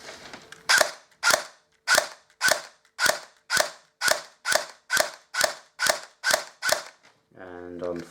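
A Cyma Glock 18C airsoft pistol, rewired, fires on single shot: twelve loud, sharp snaps evenly spaced about half a second apart, ending with a short voice.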